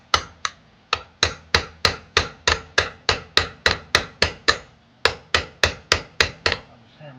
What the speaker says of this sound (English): I'll just hammer this underneath there. Hit it a few times.